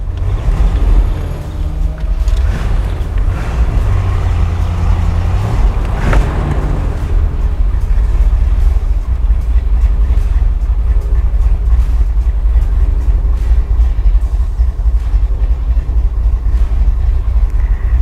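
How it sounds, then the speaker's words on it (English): A fuel-injected 1963 Corvette convertible driving with the top down, a loud continuous rumble of engine and road under heavy buffeting wind noise, with no talking. "You're gonna have to put up with the wind noise because it's just too nice out."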